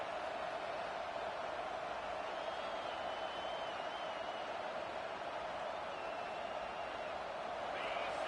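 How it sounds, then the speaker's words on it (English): Stadium crowd roar from the College Football 26 video game, a steady, dense wash of cheering that holds at an even level throughout, with faint whistles rising above the din. "listen to this crowd noise. This stadium is vibrating"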